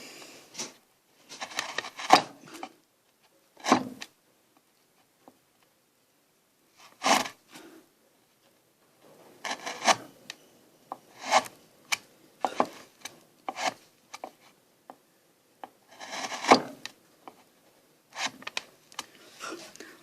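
Hand chisel pressed by arm and hand into wood while carving an upper case letter H with basic hand tools, giving a series of close, dry rasping scrapes in short bursts separated by quiet pauses.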